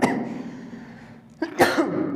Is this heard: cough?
yes